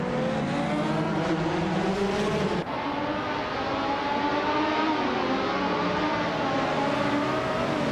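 Race cars speed along in a racing video game, with steady, loud engine whine from several cars and engine pitch sliding up and down as they accelerate and pass, and no talking.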